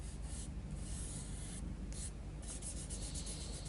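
A finger softly rubs and smudges Derwent pastel pencil on paper, a close, continuous dry brushing with slight swells in strength from stroke to stroke.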